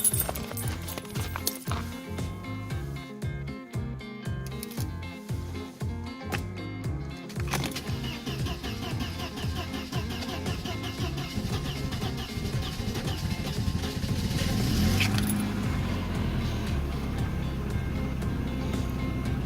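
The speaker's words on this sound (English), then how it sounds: "let's try to start up the car" A Mercedes W124 230e coupe cranks with rapid rhythmic pulses, then catches and settles into a steady, loud, close idle.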